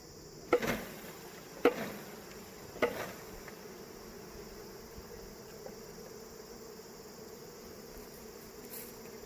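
Honeybees hum in a steady, fairly quiet drone during a Langstroth to Layens hive conversion, broken by three sharp knocks early on as the frames are shaken out.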